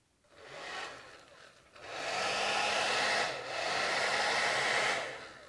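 A hair dryer dries paint in an art journal, blowing with a steady, breathy whoosh in two long, fairly loud runs separated by a brief dip.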